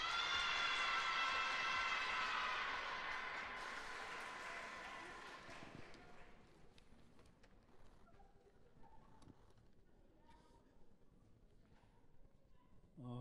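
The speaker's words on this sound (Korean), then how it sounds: "역시 큰 박수로 모시겠습니다." An audience at a commemorative ceremony applauds to welcome a speaker, loud and dense for the first several seconds, then fading away into quieter room noise with scattered small sounds.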